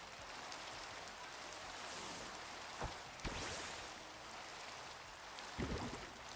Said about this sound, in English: This rain is super loud.